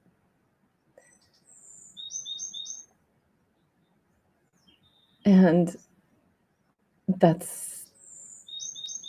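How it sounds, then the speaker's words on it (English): A bird sings outdoors in short bursts of high, clear chirps and warbled phrases, fairly close, with a voice speaking briefly between the calls. "thank you, beautiful bird, for your confirmation. These beautiful bird songs,"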